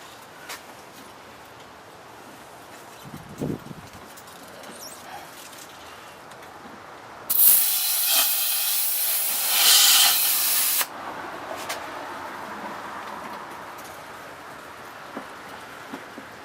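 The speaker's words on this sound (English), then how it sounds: "I got some air in my compressor now. Let's see if we can't reseat these wheels" Compressed air bursts from a compressor hose in a loud, steady hiss lasting a few seconds while reseating a snowblower tire, with quieter shop ambience before and after.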